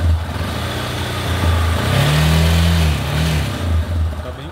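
A Honda Lander 250 motorcycle engine with a battery-charging fault idles nearby, then revs up briefly and settles back down, a rough throaty rumble with a brief second rise.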